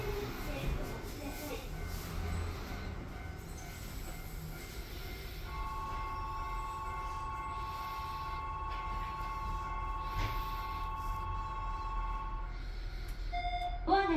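Shizuoka Railway A3006 train running between Shin-Shimizu and Sakurabashi, heard from inside: a steady low rumble of wheels on rail with a rising electric motor whine in the middle and a brief chime near the end.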